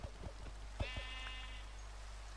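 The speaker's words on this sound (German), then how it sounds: "Hey, da ist ja noch ein Schaf." A sheep in the Minecraft video game bleats once in a short wavering cry, preceded by a few soft tapping game sounds, moderately quiet and with no talk.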